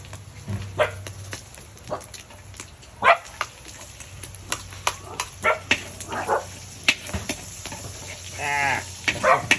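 A dog barks repeatedly in short, irregular yaps, some sharper and louder, with a whiny drawn-out yelp near the end amid a faint background hum.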